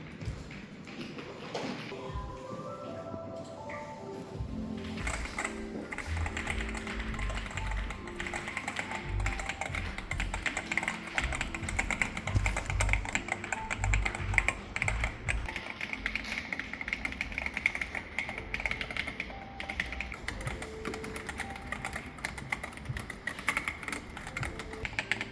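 Mechanical keyboards are tested at a keyboard shop in Yongsan, with rapid, clattering keystrokes running almost continuously and close by over a low background hum.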